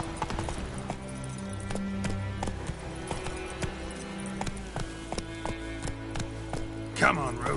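Roach the horse gallops in a video game on a PS5 Pro, with steady clip-clop hoofbeats running under a voice that talks throughout.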